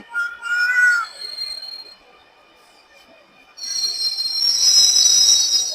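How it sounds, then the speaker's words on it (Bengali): A Dhaka metro rail train pulls into the station with high, ringing wheel squeals, a short quiet pause, then a louder, sustained metallic screech and rumble as it slows close by. "আমাদের মেট্রো রেল চলে এসেছে"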